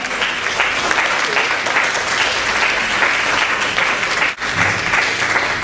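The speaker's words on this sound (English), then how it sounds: "please give them a round of applause. Please, a hearty round of applause." An audience gives a hearty, sustained round of applause for the artists at an international art exchange event. Dense, steady clapping fills the whole stretch and dips for a moment near the end.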